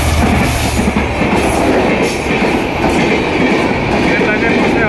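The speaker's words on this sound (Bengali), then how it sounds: "ট্রেন যাচ্ছে" A train passing on a railway line beside a busy buffalo and goat market, a loud continuous rumble with rhythmic wheel clatter and faint squealing carrying through the whole stretch.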